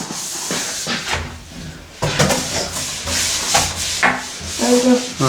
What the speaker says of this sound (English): You got to just do some more scrubbing.